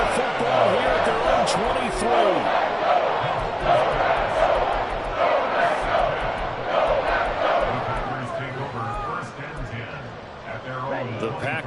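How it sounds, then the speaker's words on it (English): Stadium crowd in the Madden 24 football video game, a Packers versus Chiefs matchup, roars and cheers steadily throughout with a commentator talking over the sustained crowd noise. "this crowd has certainly liked what they've seen"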